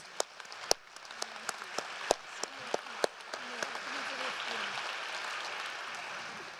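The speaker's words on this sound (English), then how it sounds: "I would give one big round of applause to our Bharatam families." At a Bharatanatyam arangetram, a few scattered, sharp claps ring out one by one, then grow into a soft, dense wash of applause from the audience, fairly quiet and distant, with a low voice murmuring underneath.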